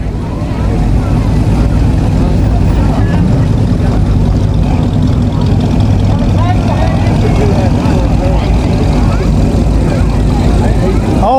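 A classic early-model Ford Model A pickup truck engine idles steadily and loudly up close, with a constant low rumble throughout.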